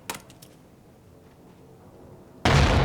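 A frag grenade explodes in the battle royale game Apex Legends, arriving as a sudden, loud broadband blast near the end after a few faint clicks and near silence.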